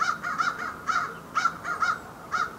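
Crows caw outdoors in short repeated bursts, several harsh calls in quick clusters at moderate distance, with no talk.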